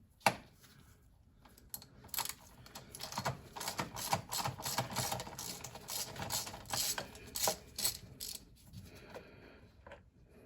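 Repeated rapid clicking of a ratchet driver fitted with a Torx T30 bit loosening a screw on a Seat Arona, quiet and close, in short bursts with brief pauses.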